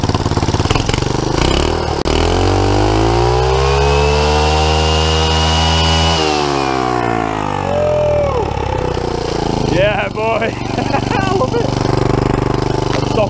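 Turbocharged scooter engine running with no air filter, revving up in a long rising and falling sweep, then sputtering and idling roughly, loud and close, with a voice talking briefly near the end.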